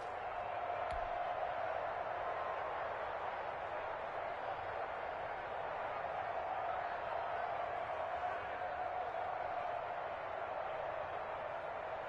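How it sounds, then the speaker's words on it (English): A football stadium crowd keeps up a steady, distant roar of cheering ahead of a big third down, a broad wash of noise filling the whole stretch without letting up. "the crowd getting into it as we come up on a big third down"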